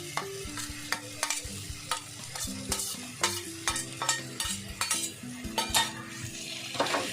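A spoon scrapes and clinks in a rhythm while okra masala fries in a pan for a Nepali veg thali. The stirring repeats over a low sizzle, with a faint melodic tone underneath.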